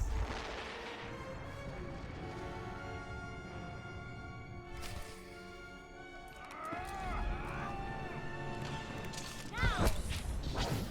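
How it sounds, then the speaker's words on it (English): Heavy cannon fire in the Star Wars: The Old Republic space battle over Corellia, with repeated booming blasts and sweeping whooshes that swell toward a loud burst near the end, under low background voices. "They've got cannon."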